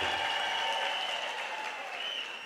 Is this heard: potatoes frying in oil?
no